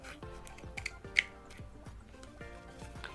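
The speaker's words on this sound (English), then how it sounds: "that's why these scissors are so perfect, because they just gets right into that corner and they're sharp all the way to the corner and just snips it right off" Sharp scissors snip through felt while flower pieces are trimmed, a series of quiet, crisp cuts spaced irregularly, close to the microphone with no talking.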